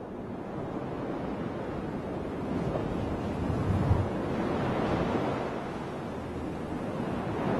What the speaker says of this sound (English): The ship was in danger of capsizing in the rolling waves.